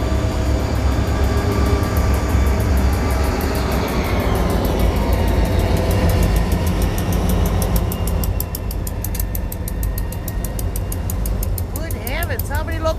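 A freight train pulled by several locomotives rolls past with a loud, sustained low rumble and grinding; the tone shifts partway through as the cars continue by.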